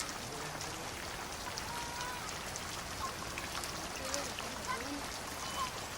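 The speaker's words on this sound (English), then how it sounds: "During the monsoon season, the palm leaf thatch withstands the downpour." Heavy monsoon rain on the Coromandel Coast pours down in a dense, even hiss, drops pattering on palm leaf thatch, faint and constant throughout.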